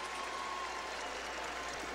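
Arena crowd at an AHL All-Star skills competition roaring steadily with cheers and applause, a dense continuous wash of noise filling the whole moment at even loudness.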